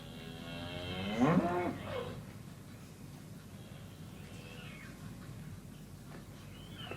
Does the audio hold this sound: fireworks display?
no